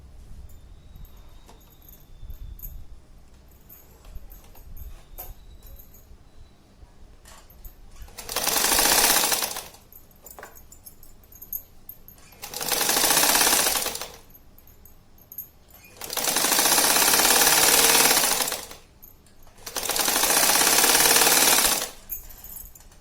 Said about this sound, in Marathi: आणि आपण जशी आखलेली होती तशी शिवून घ्यायची